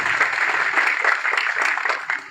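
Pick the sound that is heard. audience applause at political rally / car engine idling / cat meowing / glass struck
audience applause at political rally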